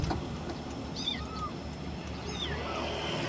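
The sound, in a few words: cat meowing under a car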